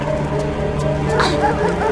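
A dog giving excited yips and short whimpering barks against a steady musical background, several quick calls bunched together in the second half.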